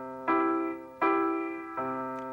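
Three piano chords of Amazing Grace struck one after another in slow 3/4 time, each ringing out clearly and decaying before the next, played alone with no voices.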